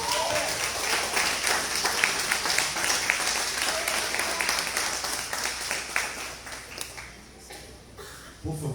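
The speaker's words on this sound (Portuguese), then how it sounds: "aplauda ao Senhor." A church congregation at a worship service breaks into loud, sustained clapping that fills the room, then thins out and fades toward the end.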